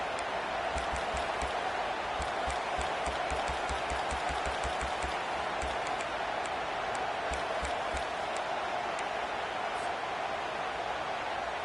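A home stadium crowd roars steadily at a Clemson versus USC college football game, a dense, continuous wash of cheering and noise that never lets up for the whole stretch.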